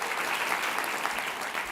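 Conference audience at a food and agriculture policy summit gives a round of applause, a steady, dense wash of clapping with no speech over it.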